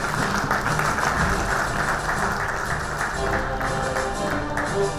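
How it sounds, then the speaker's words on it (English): Audience applause at a startup and investor event, a moderate, continuous patter of clapping blended with room noise and a faint hum, steady without swelling or fading. "Can I have a round of applause for him?"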